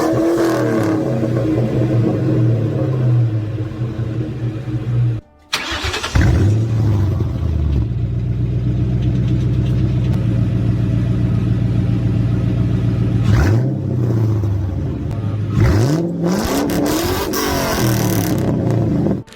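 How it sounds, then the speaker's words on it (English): Ford Mustang New Edge V8 engine revving loudly and continuously up close, with a brief cut, then repeated throttle blips rising and falling in pitch, no talk. "So here's a clip of a V8."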